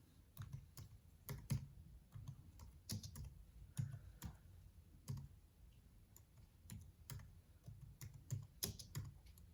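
Someone types on a computer keyboard nearby, quiet irregular clicks and keystroke bursts with short pauses between.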